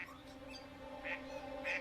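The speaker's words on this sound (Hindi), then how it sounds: "इस बतख का नाम मिस मारिया रखा?" A duck gives a couple of short nasal quacks over a steady low tonal hum, moderately loud and close.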